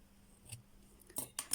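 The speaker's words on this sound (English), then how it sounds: "find your scissors, and trim that little bit just there at the end." A few quick, crisp snips of scissors trimming crochet yarn, close and fairly quiet, with the last cuts coming in rapid succession.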